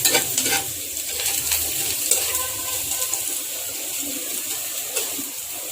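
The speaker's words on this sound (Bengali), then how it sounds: "রসুনটা আমার ভাজা হয়ে গেছে" Garlic frying in hot oil in a home kitchen, a steady close sizzle and crackle with occasional stirring scrapes and no talking over it.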